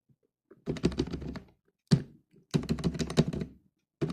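Code being typed on a computer keyboard for an Android Java tutorial, short bursts of rapid clacking keystrokes separated by pauses, with a few single heavier key thunks, close and alone.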